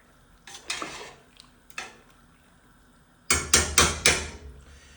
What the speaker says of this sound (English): let me give the pasta a little stir.